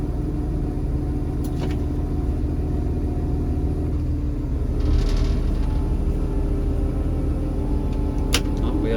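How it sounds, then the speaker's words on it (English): KSF 940 ballast regulator track machine with a travel problem, its diesel engine rumbling steadily as it moves forward, a low, continuous drone with occasional clanks and a brief surge midway. "So the machine's actually moving right now, forward."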